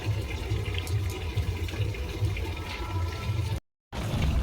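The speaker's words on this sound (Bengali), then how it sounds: "এইভাবে একটু সময়ের জন্য ভালো করে পরিষ্কার করে ধুয়ে তুলে নেবো" Cut pointed gourds are swished and rinsed in water, a close, soft sloshing and trickling that runs steadily before a brief cut to silence and a short resumption.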